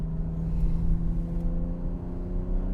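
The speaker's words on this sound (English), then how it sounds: "it's really fun to drive the new BMW Alpina B3" A BMW Alpina B3 climbs a hill at steady speed, its engine a low, constant drone with a smooth whir heard from inside the car, and no talking.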